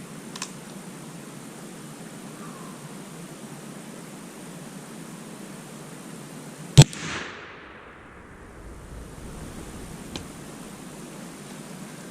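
A Thompson Center Seneca .36 muzzleloader fires a single black powder shot: one sharp crack with a short fading rumble over steady background hiss, then a faint click a few seconds later.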